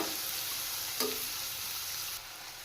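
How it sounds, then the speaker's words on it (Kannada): Chopped onions frying in a pan for sweet corn fried rice give a soft, even sizzle with a single brief scrape of stirring near the middle, fairly quiet and close, with no voices. "ನಂತರ ನಾನಿಲ್ಲಿ 2 ಈರುಳ್ಳಿನ ಕಟ್ ಮಾಡಿ ಸೇರಿಸ್ಕೊತಾ ಇದ್ದೀನಿ. ಇದನ್ನು ಫ್ರೈ ಮಾಡ್ಕೋಬೇಕು."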